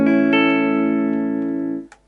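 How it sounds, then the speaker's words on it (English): Single sustained chord on a Gibson Melody Maker electric guitar through its Lollar P90 bridge pickup, ringing out clean and bright for about two seconds before being muted, with a faint pick scrape at the end. "P90s, which sounds like this on the bridge"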